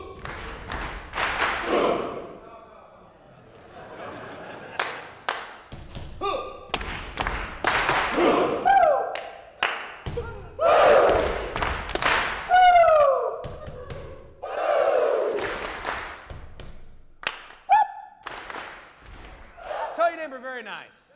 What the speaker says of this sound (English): Say what I say, stomp what I clap, clap what I stomp.